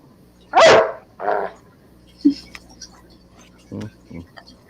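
A pet dog barks twice, loud and close, then gives a few shorter, quieter yips and huffs in a home setting.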